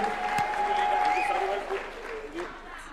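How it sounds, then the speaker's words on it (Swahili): Applause from the audience at a UDA National Governing Council political meeting, a steady round of clapping that fades over a few seconds, mixed with a sustained tone and background voices. "Makofi kwa Leader of Majority"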